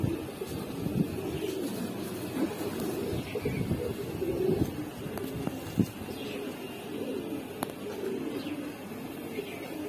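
Giribaz pigeons coo softly in repeated low, throaty phrases, with faint chirps and clatter around them at close range and no clear talking.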